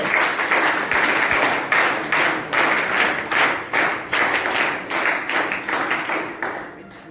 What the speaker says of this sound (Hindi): ए भैया आपकी ताली चाहिए।